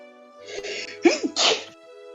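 A single close sneeze rings out with a quick intake of breath before a sharp, loud burst, clear against a quiet room background.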